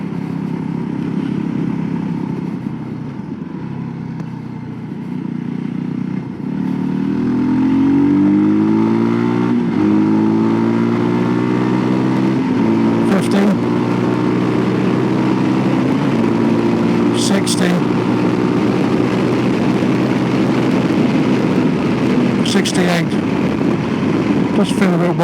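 A Voge 300 Rally motorcycle on mostly off-road tyres pulls hard along a dual carriageway, its engine note climbing steadily through the gears with continuous wind roar, loud and close throughout.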